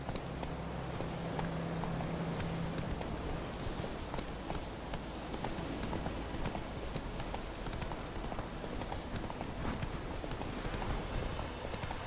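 Roach, the horse in The Witcher 3, gallops along with fast, steady hoofbeats that run unbroken the whole time. A low game ambience hums underneath.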